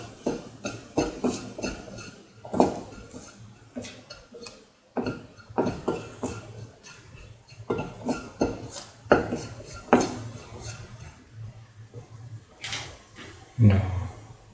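Vermicelli is stirred while it sautés in a pan, giving repeated close scrapes and clinks of a utensil against metal in an irregular rhythm, with a voice speaking over it in places.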